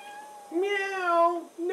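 A cat meows once in a drawn-out, rising and falling cry, followed by a short second meow. It is close and clear against a quiet indoor background.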